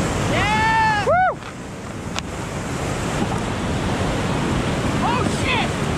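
Rushing whitewater on the Bottom Moose river roars steadily and close, mixed with wind buffeting the microphone, while people whoop and shout excitedly at the start and again near the end.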